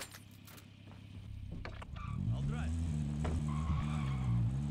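In Warzone, a car engine revs up and tires squeal as it skids and drives off, loud and close, with players talking over it.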